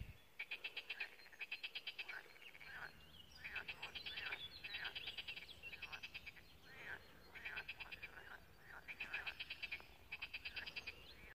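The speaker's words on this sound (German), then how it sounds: "Ja, Frösche höre ich hier genug. Oder Kröten oder was auch immer." Frogs or toads croak at a pond set among small pines and birches, in rapid pulsed bursts repeating in overlapping waves throughout, moderately close, over a soft outdoor background hiss.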